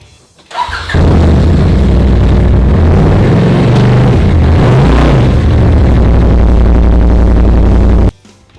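A Polaris RZR side-by-side engine fires up and is driven, revving loud and close with a steady, heavy mechanical roar that holds for several seconds, then cuts off abruptly.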